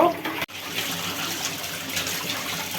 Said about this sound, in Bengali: নাস্তা খাওয়ার পর যেগুলা এগুলো এখন ধুয়ে নিচ্ছি